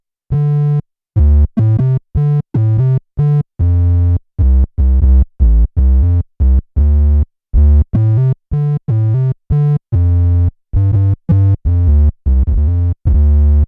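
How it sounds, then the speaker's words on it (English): Electric bass through an MXR Bass Synth pedal set to a triangle wave gives a smooth, round synth tone in a steady run of short, punchy detached notes, loud and close, with no voices. "So that's what the triangle wave sounds like."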